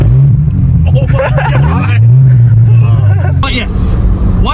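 Engine of a 2000 Volkswagen Golf Mk4 with a modified exhaust, a loud steady low rumble that rises and falls in pitch as it revs, with people talking over it.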